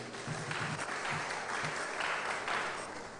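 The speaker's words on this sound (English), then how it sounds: "Please, a round of applause for him." An audience at a government grants and loans event in Abuja gives the FRS chairman a round of applause, a soft, distant and steady patter of clapping throughout.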